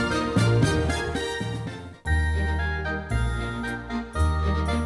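Schubert's military march plays as the easy piece in a summer drum play-along game, a bright full-band recording with steady marching rhythm, loud and continuous with a brief dip near the middle.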